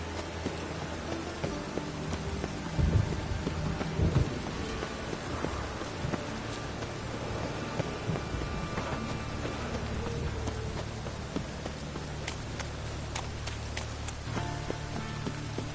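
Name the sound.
rain and thunder in video game The Witcher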